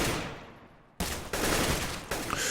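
Gunfire in the video game CS:GO: a few sharp, loud bursts of shots and fusillade cracks in quick succession, each followed by a trailing echo, with no talk over them.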